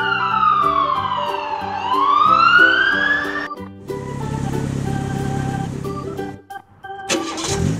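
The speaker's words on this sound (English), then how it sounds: "Black police car." A black toy police car sounds its electronic siren, loud and close, with a swooping wail that sweeps up and down before a steady rumbling engine-like drone takes over.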